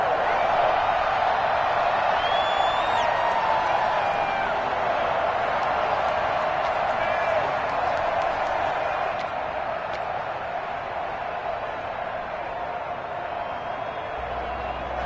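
A stadium crowd at a winter football game against the Patriots applauds the defense after a fourth-down stop, a dense, steady roar of clapping and cheering with scattered whoops that holds at a loud level throughout.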